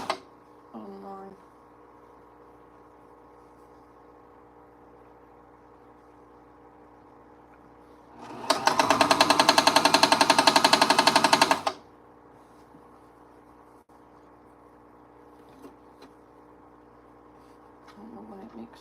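A home sewing machine runs noisily for about three seconds midway, a loud dense mechanical rattle with something knocking inside it, between stretches of quiet room tone.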